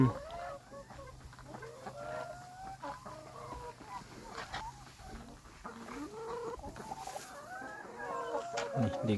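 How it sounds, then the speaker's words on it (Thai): Laying hens clucking on a farm, a busy overlapping chorus of close and farther clucks and warbling calls with a steady low hum beneath, no speech. "ไก่ไข่ ของลุงเพิ่น"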